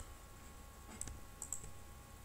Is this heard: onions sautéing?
no